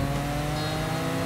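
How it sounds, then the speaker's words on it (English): A supercharged Porsche 911 engine revs loud and steady at close range, a dense, continuous mechanical drone held throughout the short burst with no talking. "Porsches have such a unique engine sound. At low RPM, they sound rough, but at high RPM, it all comes together so well"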